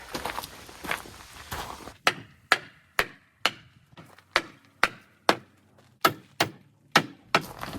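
Hammer blows land on a wooden pallet, a series of about fifteen sharp, solid thuds at a steady, quick rhythm, loud and close, after some softer scuffing at the start.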